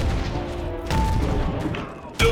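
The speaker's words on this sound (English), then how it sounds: "Frag out." Frag grenade going off in the online shooter Ballistic Overkill, a sharp blast near the end following a stretch of muffled gunfire and game noise, heard close and loud.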